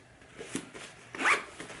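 A zipper on a compartment of a Think Tank Retrospective 5 camera bag is pulled in a few quick, close rasping strokes, heard alone.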